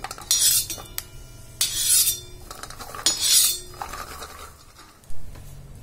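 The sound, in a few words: scooping roasted peanuts out of a pan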